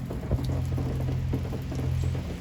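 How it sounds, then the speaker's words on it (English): Rain mixed with freezing sleet falls steadily outdoors in Raleigh, a continuous close patter over a low rumble with no voices. "now it's all turned into freezing sleet and snow"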